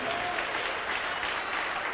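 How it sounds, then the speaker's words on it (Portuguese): Inside a church, a congregation gives loud, continuous applause that fills the space evenly for a couple of seconds without any clear speech. "dê para esta palavra eterna a melhor salva de palmas de toda a sua vida"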